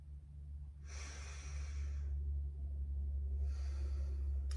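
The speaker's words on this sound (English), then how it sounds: "Take a nice deep breath." A slow, deep breath drawn in and then let out, two soft airy swells separated by a pause, close and quiet over a low steady hum.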